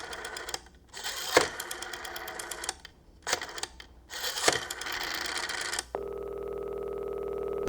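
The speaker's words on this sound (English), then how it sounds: "The caller's tone rang in my ears" A telephone rings back after a number is dialed: a steady electronic tone that cuts in near the end, preceded by clicking, whirring dial and handset noises, with no talking.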